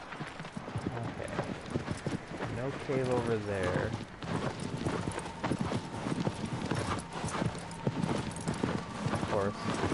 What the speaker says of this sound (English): the horse wants to keep slowing down to the slowest of trots